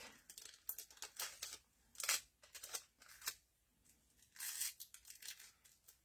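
Tim Holtz scissors snipping repeatedly through craft material that has tape on it, a series of close, crisp cutting strokes in irregular bursts, with quiet gaps between them.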